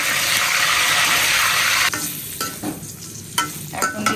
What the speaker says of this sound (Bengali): পটল ভাজা আমরা এরকম করে পটল ভাজি।